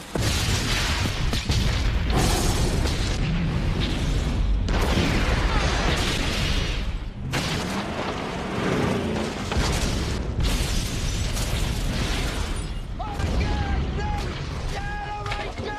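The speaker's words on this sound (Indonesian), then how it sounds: "mereka kabur sambil meledakkan rumah si narkoboy" A house blows up in the 2003 action film Bad Boys 2: loud, dense booming blasts and rumbling debris fill the whole stretch in repeated heavy surges, with a brief voice-like tone near the end.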